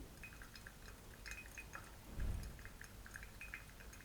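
Brewed coffee from a rare natural-processed Kenyan bean drips slowly through a filter, sounding as faint, scattered, close droplets over quiet background hiss.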